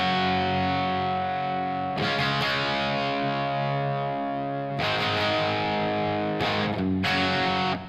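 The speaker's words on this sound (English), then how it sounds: "let's go over what the Jose sounds like when it's pulled out" Crunchy overdriven electric guitar plays through a Blockhead Marshmello plexi amp, Jose Mod50 pulled out, holding long ringing chords broken by sharp new strums and quick stabs near the end, loud with no voices.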